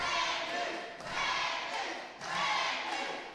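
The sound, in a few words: wrestling show crowd cheering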